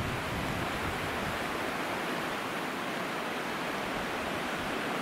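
Steady, loud rushing water fills the scene, a broad continuous roar like a fast torrent or surf with no breaks and no voices.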